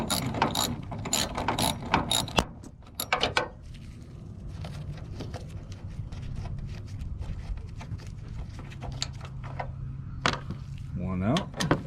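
Ratchet with a 5/16 socket loosening a screw on a Ford taillight housing, rapid pawl clicks in bursts up close, then quieter intermittent ratcheting and handling clatter, with someone speaking briefly.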